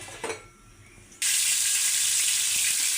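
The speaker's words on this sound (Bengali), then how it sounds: "এখন দিয়ে দেবো সয়াবিন তেল। মাছটা একটু হালকা করে কষিয়ে নেব" Tilapia fish hitting hot soybean oil in a village kitchen pan brings a sudden loud, steady sizzle that sets in abruptly after a quiet moment and keeps hissing evenly.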